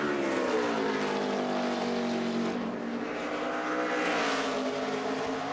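A NASCAR stock car on a qualifying lap at Pocono, its engine a loud sustained roar with a steady harmonic whine that shifts slightly in pitch as it passes.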